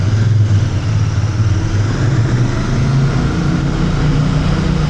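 A Royal Enfield Bear 650 motorcycle idles with a steady low engine rumble inside an indoor car park, loud and close, echoing off the concrete with no talk over it.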